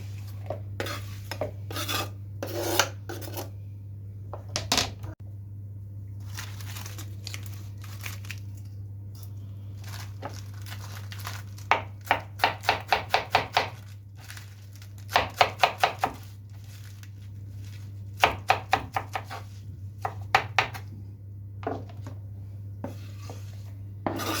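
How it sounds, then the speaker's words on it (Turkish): A knife chops curly lettuce on a board in quick bursts of rapid strokes separated by pauses, close up over a steady low hum. "kıvırcık marullarımı doğruyorum."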